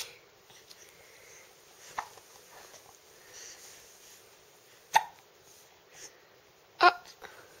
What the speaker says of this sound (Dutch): Je hebt de hik.